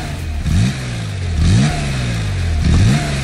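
A Porsche Carrera RS 2.7 engine revs three times in a sound chamber, each loud blip rising sharply in pitch then falling back to a throbbing idle between them, close and with no voices.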